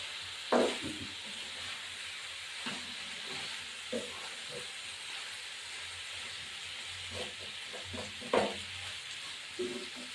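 Chicken curry frying in a pan is stirred with a spoon, giving a soft continuous sizzle broken by several sharp scraping clinks against the pan.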